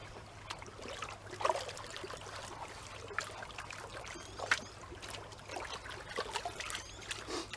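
Water sloshes and trickles in a gold pan of sandy creek material, soft irregular swishes and drips near and steady, with a faint low hum beneath.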